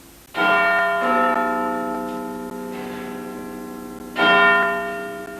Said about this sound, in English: tonight even Big Ben has fallen victim to the cold, with the freezing weather disrupting its chimes